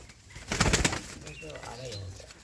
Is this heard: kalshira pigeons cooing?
yes